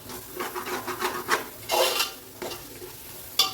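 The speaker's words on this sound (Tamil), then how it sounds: "நல்லா வதக்கிடணும் புதினா கொத்தமல்லியை" Mint and coriander leaves sautéing in oil in a pan for chicken dum biryani, a close sizzle with rhythmic rubbing, scraping stirs and a sharp clink near the end, no talking.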